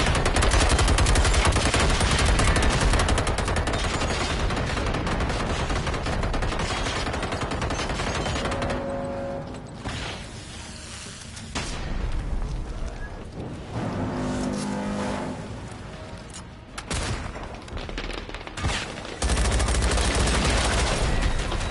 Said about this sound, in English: Just shooting at him.